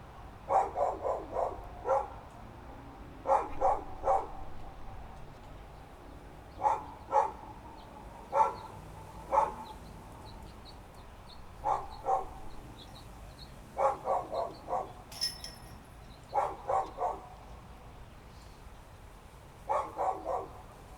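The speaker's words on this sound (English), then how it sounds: "I don't know if I'd rather hear this dog barking or not." A dog barks on a golf course in repeated short bursts, usually two or three barks at a time with pauses between, moderately distant and clear against a quiet background.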